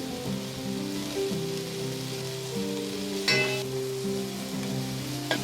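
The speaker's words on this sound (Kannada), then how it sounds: "ಇವಾಗ ಸ್ವಲ್ಪ ಶುಂಠಿ ಬೆಳ್ಳುಳ್ಳಿನ ಸುರಿದಿಟ್ಕೊಂಡಿದ್ರೆ ಅದು ಹಾಕೋತಾ ಇದ್ದೀನಿ" Ginger, garlic and coriander leaves fry in oil in a pan, a steady close sizzle with soft crackle and occasional stirring scrapes, continuous throughout without speech.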